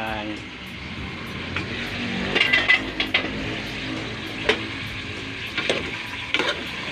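Pork sizzling as it browns in a pot for sinigang, a steady fry hiss with occasional clinks and stirring, heard beneath a person talking.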